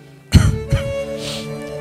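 Coughing inside a home, a couple of sharp throat-clearing coughs close to the microphone at the start, with no one speaking.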